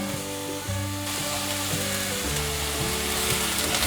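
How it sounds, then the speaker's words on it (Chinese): Diced potato and shiitake mushroom bits frying in a pan, a dense continuous sizzle with occasional stirring scrapes, close and alone without talk. "继续翻炒。"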